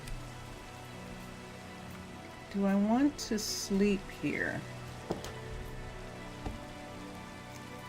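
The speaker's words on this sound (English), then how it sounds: "it is pouring down rain" Steady rain pours down in Minecraft, a constant hiss under the whole scene, while someone speaks briefly partway through.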